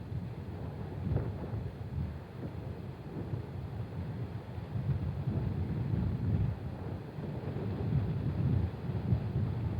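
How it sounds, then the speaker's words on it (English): Strong wind gusting up to 30 knots off Carmel Bay at Pebble Beach during a golf championship, heard as a steady low rumble of wind buffeting the microphone, with no talk. "The wind, at times, gusting up to 30 knots coming off Carmel Bay today."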